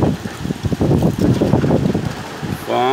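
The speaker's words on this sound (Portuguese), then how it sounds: "Ventania aqui em Pau Brasil neste momento." Strong, gusty wind buffets the microphone outdoors in Pau Brasil, Bahia, a loud low rumble with a voice talking over it.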